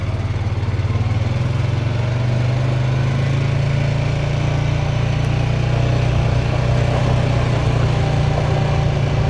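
An ATV engine idles close by with a steady buzzing drone and low rumble, holding an even note throughout, with no clear change or pull-away and no talking.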